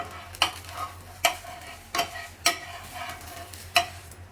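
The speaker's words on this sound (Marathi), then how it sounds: "आता ह्या कडा सोडवत सोडवत हा डोसा आहे तो पलटी करून घ्यायचा आहे" A cucumber dosa in an oiled pan gives a low continuous sizzle. Sharp scraping taps come about every 0.6 to 1.2 seconds as the edges are loosened and it is flipped. The sound is close, with no voices.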